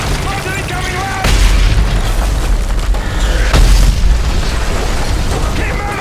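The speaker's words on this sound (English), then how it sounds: "Mortar incoming, lad!" Mortar shells explode in a Call of Duty: Modern Warfare 2 and 3 cutscene, two heavy booms landing close together amid constant battlefield noise while soldiers shout over the din.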